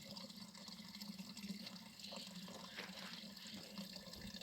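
Water runs steadily from a spring fountain on a mountain pasture, a soft continuous trickle and splash that stays faint and constant against quiet open-air ambience.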